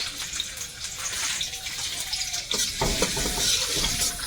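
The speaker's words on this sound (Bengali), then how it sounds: "সাদা তেল আর একটু ঘি তেলের মধ্যে প্রথমে এখন দেব রসুন কুচি" Chopped garlic sizzles as it goes into white oil and a little ghee in a new wok. There is steady close frying hiss with occasional stirring scrapes, and it grows louder partway through. No one talks.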